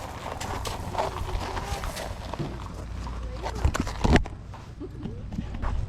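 Horse hooves clip-clop at a walk during a group trail ride, several animals moving steadily nearby under background voices and outdoor noise, with a louder thud of hooves partway through.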